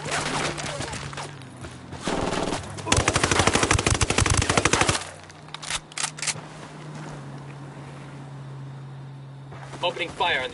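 Rapid automatic gunfire in a tactical shooter game, with loud machine-gun bursts and dense volleys around a mission involving civilians, alternating with quieter stretches and scattered single shots.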